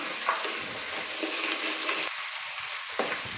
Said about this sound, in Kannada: ಎರಡು ಕ್ಯಾಪ್ಸಿಕಮ್ನ ಕಟ್ ಮಾಡಿ ಸೇರಿಸ್ತಾ ಇದ್ದೀನಿ ಎಣ್ಣೆಯಲ್ಲಿ ಚೆನ್ನಾಗಿ ಫ್ರೈ ಆಗಬೇಕು